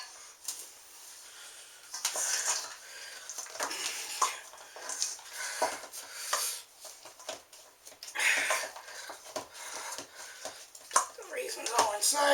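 Sticky no-knead cinnamon raisin bread dough is stirred and mixed in a bowl, giving irregular scraping, squelching and clattering noises at close range, mostly without talk.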